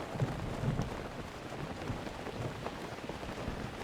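Rain in a cozy video game with a thunderstorm setting in, a steady soft downpour with scattered low rumbles and drops, heard at moderate distance without talk.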